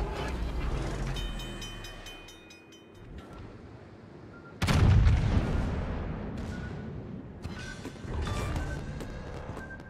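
Heavy warship guns firing in a World of Warships naval battle, with a sharp loud boom crashing in midway over a rumbling backdrop of game effects and distant shot reports.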